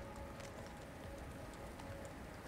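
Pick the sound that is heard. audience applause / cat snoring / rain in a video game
rain in a video game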